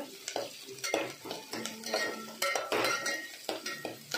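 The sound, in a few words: masala roasting and being stirred in a pan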